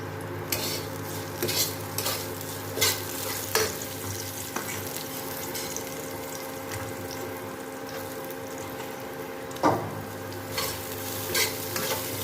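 Onions frying in a pan, browning for a South Indian style eggplant dish, with a continuous close sizzle, a low steady hum underneath, and intermittent clinks and scrapes of a spoon stirring.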